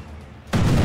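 In the video game Sniper Elite 4, a harbor is bombed: a sudden loud, heavy burst of blast noise kicks in partway through after a quieter rumbling stretch, booming and sustained at the end.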